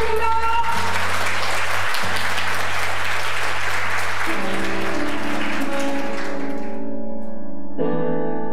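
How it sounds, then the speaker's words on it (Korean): Wedding guests clap as a song is introduced, a broad wash of applause over sustained music that fades out toward the end, leaving the music alone. "박수 부탁드립니다"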